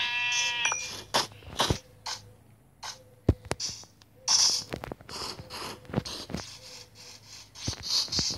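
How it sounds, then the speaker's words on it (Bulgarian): Sheep in the video game Minecraft bleat, a clear cry at the start followed by more intermittent bleats mixed with sharp clicks and scraping noises. "Нека да видим няколко овци"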